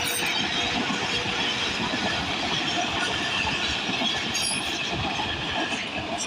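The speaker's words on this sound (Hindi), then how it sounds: "हाँ जी देखिए जी ट्रेन गुजर रही है" A train passing by near a village canal, a loud, steady rumble with rhythmic clickety-clack of wheels and some faint squeal, sustained throughout.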